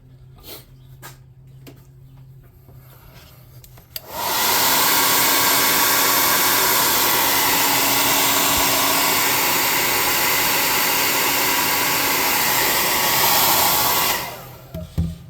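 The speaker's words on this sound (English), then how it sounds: "But let's hit this with the air gun first." An air gun blows onto a painted model rock for a tabletop RPG desert camp scene, a loud steady rushing hiss that starts abruptly, holds for about ten seconds, then cuts off, with faint handling noises before and after.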